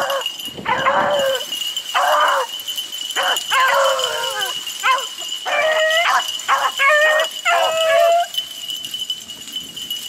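A dog barks repeatedly outdoors near a power line, with about a dozen loud, close barks and yips coming in uneven bursts and short gaps.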